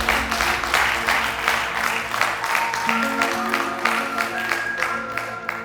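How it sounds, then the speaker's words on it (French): Studio audience applause greeting a guest on a French-language talk show, a steady dense wash of clapping filling the whole stretch with some music underneath. "Applaudissements pour Sonia."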